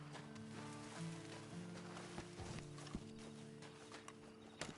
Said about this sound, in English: you better get on this horse